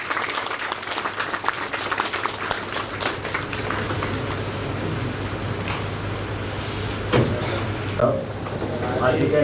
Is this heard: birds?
no